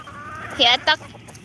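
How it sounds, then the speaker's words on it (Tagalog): A couple of short, bright clucking bursts from a nearby chicken, with faint background murmur between them. "Ayan, nandun yung mga manok."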